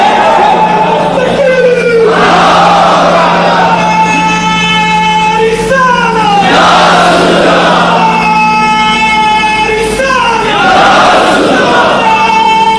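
A large crowd at a religious speech chants slogans in three loud, surging waves, many voices rising and falling together over a constant background hum.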